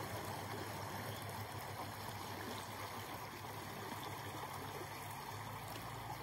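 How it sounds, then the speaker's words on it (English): Flowing stream with steady bubbling and trickling water, a constant soft wash of sound with no voices over it. "You heard the bubbles of the stream, which is fantastic. That tells us it's a flowing stream, it's got some movement."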